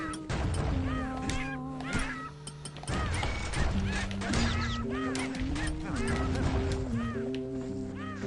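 Attack birds squawk and honk through a loud video game battle in Bastion, repeated harsh calls layered over a steady musical score with thumping hits.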